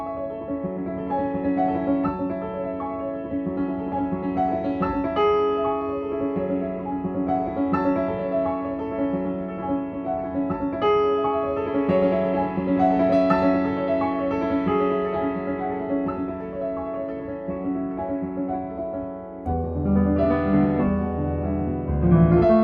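A grand piano with its lid fully closed plays a sustained, muffled passage, its tone dull and boxy, with a shift to heavier low chords near the end.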